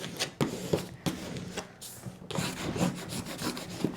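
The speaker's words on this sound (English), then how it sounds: "Now we're going to burnish down." Craft vinyl being burnished down with a rubbing tool, heard as close, repeated scraping strokes in an irregular rhythm, moderately loud with no talking.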